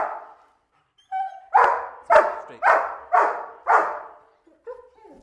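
A police K-9 dog barks loudly and close by, five deep barks in a quick steady rhythm, with a few softer whines before and after.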